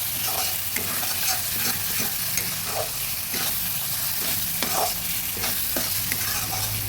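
Spices being stirred into chicken curry frying in a pan, a steady scraping stir over continuous close sizzling with no one talking.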